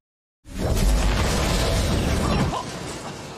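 In a film scene, a machine explodes with a sudden loud blast after a moment of silence, followed by a sustained rumbling roar with mechanical rattling and debris that slowly fades.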